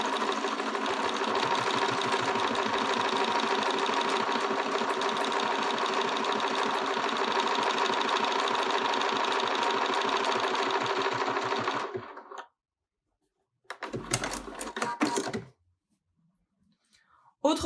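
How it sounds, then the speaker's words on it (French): A Bernina sewing machine stitching an automatic buttonhole, a steady close rhythmic whirring and needle chatter lasting about twelve seconds, then stopping, followed by a short burst of mechanical noise. "Je commence à coudre et je n'ai plus rien à indiquer à la machine."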